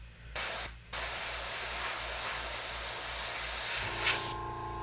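Airbrush spraying paint through a PocketGraFX stencil, a close, steady hiss with a brief stop-and-restart near the start, then continuous spraying for several seconds before tapering off.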